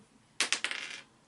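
Dice clatter onto a tabletop during a game of Shadows of Brimstone, a quick burst of sharp rattling clicks that settles within about half a second, fairly close and alone.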